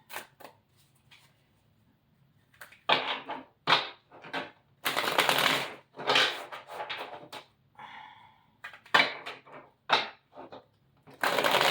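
Tarot cards are shuffled in repeated bursts of riffling and flapping, close and crisp, separated by short pauses.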